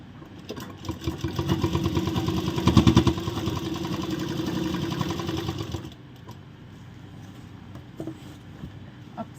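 A sewing machine runs at a steady fast whir while stitching elastic onto a palazzo pant, continuing for about six seconds and then stopping, leaving quiet handling noises.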